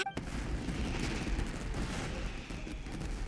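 Fireworks burst in the video game Genshin Impact, giving a dense, continuous rumble of booms and crackling with a sharp crack at the start, steady and loud throughout.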